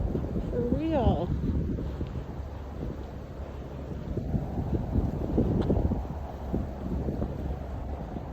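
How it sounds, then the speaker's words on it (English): Rough wind gusts steadily across the microphone at Fort Lee State Park near the George Washington Bridge, a constant loud buffeting roar, with a brief voice-like sound near the start. "The wind. Wind's rough."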